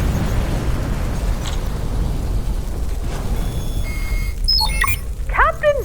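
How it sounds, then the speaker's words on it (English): Fiery explosion sound effect in a sci-fi comedy radio drama: a sustained loud roaring, crackling rumble of blast debris filling several seconds, followed by sci-fi electronic zaps and chirps near the end. "Simon and Carl obliterated Zippy in a fiery explosion."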